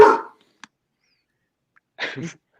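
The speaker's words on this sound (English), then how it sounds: "Yeah, it's just the barking." A dog barks once loudly at the start, then gives a faint short yip, then a second muffled bark-like burst near the end, each separated by near silence.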